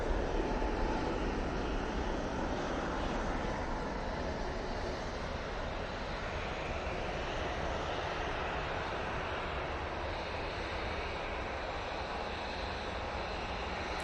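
An airliner takes off at Manchester Airport, a loud, dense, continuous jet-engine roar that holds steady throughout, with no voices.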